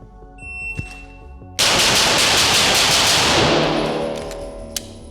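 A rapid string of handgun shots at Big Tex Range in Conroe, Texas, fired in quick succession across several targets, loud and close, with a brief pause between bursts and no talking.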